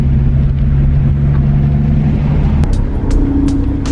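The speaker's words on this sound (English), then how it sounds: "Clutch in, first gear, gas, rolling back a little bit, it's all right." Manual transmission car pulling away in first gear, a loud steady close engine rumble with a low drone, shifting slightly in pitch near the end.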